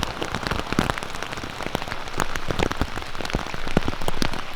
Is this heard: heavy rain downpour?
yes